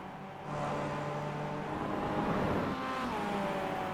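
Two Mazda MX-5 race cars dueling in iRacing, engines droning and revving steadily together with shifting pitch, loud and continuous throughout with no talk.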